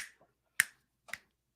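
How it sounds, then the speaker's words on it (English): Three sharp, crisp finger snaps ring out close and alone in near silence, the first faint and the next two louder and spaced about half a second apart. "Snap your fingers."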